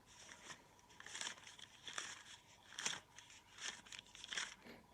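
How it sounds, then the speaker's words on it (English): Crisp rustling and crinkling of paper bills in repeated short bursts, a recorded sound effect from a talking dictionary, close and fairly quiet, no voices. "The sound of paper money."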